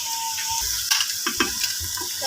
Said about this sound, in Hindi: घी गरम हो जाए, लहसुन अदरक का पेस्ट डाल के इसको भून लेना है।